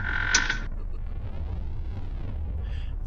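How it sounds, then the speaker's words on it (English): A bedroom door creaking open slowly, one long drawn-out wavering creak following a short sharp onset, loud and close, with no voices over it. "I rushed over to James's room and creaked the door open."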